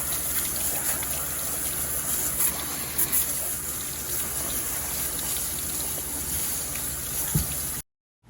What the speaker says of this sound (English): I'm taking the hose and I'm hosing off at a 45-degree angle